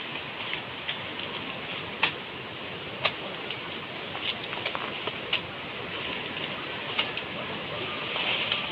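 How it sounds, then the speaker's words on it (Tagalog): Steady rain falls on a small farm, a dense even hiss spread throughout, with scattered close drips and taps landing on nearby surfaces; no one speaks. "it's raining"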